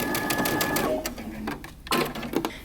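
Sewing machine stitching a dress seam from a Simplicity pattern up to a pin, a fast mechanical whir that slows and pauses, then starts again briefly before stopping; close and fairly loud.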